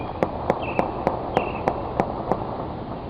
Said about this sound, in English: hear the gunshots for yourself